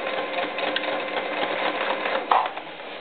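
A sewing machine stitches elastic onto a doll's ruffled skirt in a continuous, close, rapid mechanical whir with a brief louder clack near the end and no talking.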